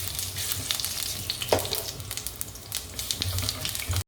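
Whole spices—cinnamon, bay leaf, fennel, cumin and fenugreek—crackling in hot oil in a pan, a close continuous sizzle with sharp pops and occasional stirring clicks, no voices.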